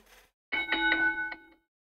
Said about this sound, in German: gerne die Glocke betätigen, um kein Video mehr zu verpassen